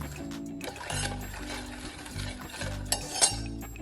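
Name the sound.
mixing milk into a creamy cake batter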